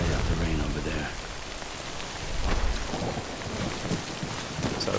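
Steady rain pours down with deep rumbles of thunder rolling through in the video game Death Stranding, a dense, continuous storm wash with a swelling rumble midway.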